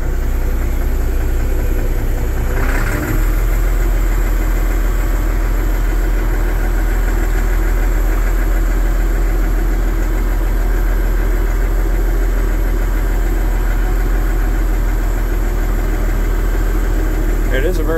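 A Massey Ferguson 1135 tractor engine idles and runs steadily with a constant low rumble and vibration, close by and continuous throughout.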